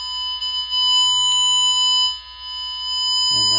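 A steady, high-pitched electronic tone from a Fluke Networks Pro3000 tone probe hums continuously and loudly, with a brief low rustle at the end.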